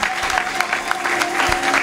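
Church congregation applauding and cheering in acclamation of the Lord during an Easter seminar service, a steady wash of clapping from a crowd with scattered louder claps.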